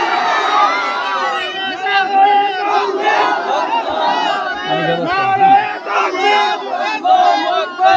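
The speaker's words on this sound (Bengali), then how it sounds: "এবারে সবাই একসাথে নারায়ে তাকবীর দিয়া দাঁড়াইয়ে একটু আমারে দেখেন তো" A crowd at a Bangladeshi Islamic religious gathering chants Nara-e-Takbir together in unison, a loud sustained mass of voices answering in rhythmic call-and-response across the whole span.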